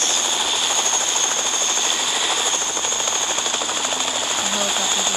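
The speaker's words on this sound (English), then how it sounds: "Chopper's still here." A helicopter in the Fortnite video game drones with a steady, loud whirring rotor roar throughout, close and continuous.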